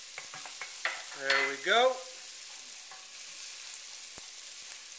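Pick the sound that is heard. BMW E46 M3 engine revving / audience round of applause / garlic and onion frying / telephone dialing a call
garlic and onion frying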